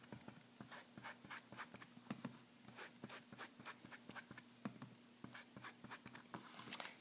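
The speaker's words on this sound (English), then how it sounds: "put some scrap paper down and ink up one of these big daubers" A large inked dauber is rubbed back and forth over a ribbon laid on scrap paper, giving quick, quiet, regular scratchy swipes at close range with a soft hum beneath.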